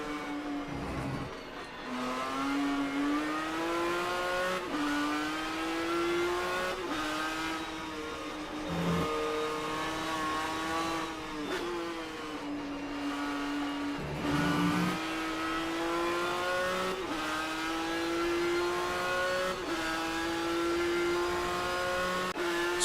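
Ford Mondeo touring car engine in a racing video game at Okayama, a loud, steady onboard drone with repeated upshifts and rising revs, brief dips on lifts and downshifts, no talk.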